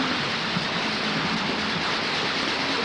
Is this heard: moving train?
yes